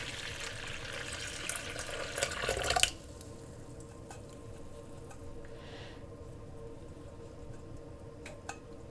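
Finger-warm water, five deciliters, poured into a mixing bowl for bread dough, a brief splashing gush that stops abruptly after a few seconds, followed by quiet room tone with faint clinks.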